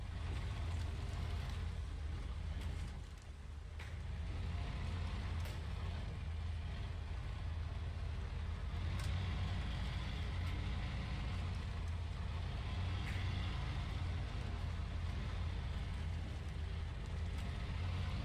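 A vehicle creeping slowly in low gear through deep ground, a steady low engine rumble held for a long stretch with faint knocks and scrapes over it, no talking.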